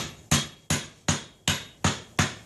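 Six sharp, evenly spaced metal hammer blows drive a wedge into the top of a hammer handle, each strike ringing briefly and decaying before the next, close and loud with no talking.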